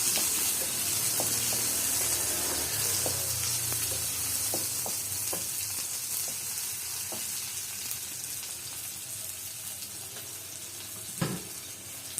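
Tomatoes sautéing in rendered fat for a Filipino mung bean soup, a steady close sizzle and crackle with occasional stirring clinks and scrapes, no voices.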